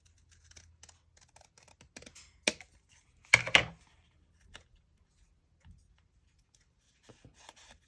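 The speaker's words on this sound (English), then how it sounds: "I'm gonna cut that off." Scissors snipping through paper on a scrappy junk journal page, a few short crisp cuts at close range, with quiet rustling before and after and no talk.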